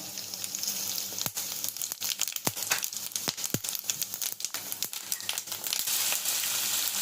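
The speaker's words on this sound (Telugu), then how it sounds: "అలాగే ఎండుమిర్చి జీలకర్ర వేస్తాం" Dried red chillies and cumin, added after mustard seeds, sizzle and crackle in hot oil with sharp pops scattered over a steady frying hiss, close and moderately loud.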